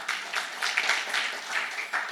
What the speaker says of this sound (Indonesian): Tepuk tangan untuk Tuhanmu.